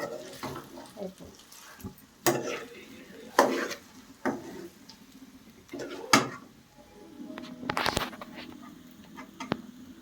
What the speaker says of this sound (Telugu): రైస్ కలిపిన తర్వాత లాస్ట్కి ఇట్లా కొత్తిమీర వేసి ఒకసారి కలిపేస్తే అయిపోతుంది ఫ్రెండ్స్